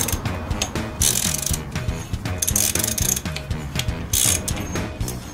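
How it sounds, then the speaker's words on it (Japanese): Rapid ratchet wrench clicking while tightening in a workshop, working on an older Mini Cooper S, with bursts of clicks repeating in steady rhythmic strokes, close and fairly loud, with no talk. "このラチェットの音わかる"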